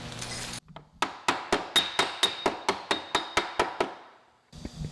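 A hammer strikes metal during the building of a vehicle's inner structure and body for Metalcloak exoskins: about fifteen sharp, ringing blows at a steady, even rhythm, loud and close, with brief noise before and after.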